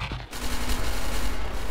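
A guard's gun fires in SCP: Secret Laboratory, a rapid stream of close, loud shots rattling on without pause after a brief quieter moment.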